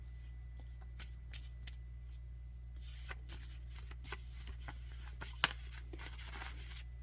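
A deck of homemade reading-challenge cards being shuffled by hand, giving soft papery riffles and light taps that come in scattered bursts, quiet and close, over a steady low hum in an otherwise still room.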